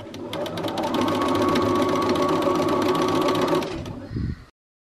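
A sewing machine stitches fabric in one continuous fast run, its rapid needle clatter steady and close for about four seconds before slowing with a final clunk and stopping.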